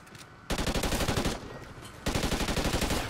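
Rapid automatic fire from an SA-805 assault rifle in the video game Call of Duty: Ghosts, in two loud sustained bursts separated by a short pause, preceded by quieter game ambience.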